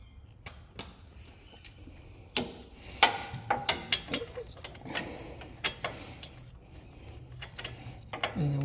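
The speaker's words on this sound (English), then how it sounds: "And then we'll just loosen up the castle nut." Ratchet loosening a castle nut on the upper control arm of a 2000 Dodge Durango 5.9L V8, a series of close, sharp clicking strokes in an uneven rhythm, quiet between bursts.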